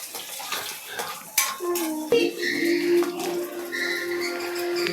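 Whole spices such as cinnamon and cardamom are stirred with a metal spoon in a cooking pot for biryani. Several sharp clinks and scrapes ring close against the pot over a soft background hiss.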